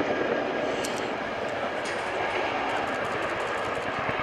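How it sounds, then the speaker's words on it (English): A Boeing Chinook HC 6A twin-rotor helicopter flies a low-level display orbit, its blade flap a loud steady rapid thudding pulse over a broad roaring rotor and engine wash, close and continuous. "see and hear the fabulous and famous sound that is our blade flap"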